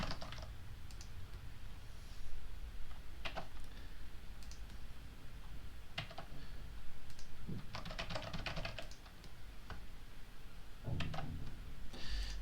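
Typing on a computer keyboard at a desk gives light clicky keystrokes in scattered bursts, with a denser flurry in the middle, close and fairly quiet over a faint room hum, with no talk.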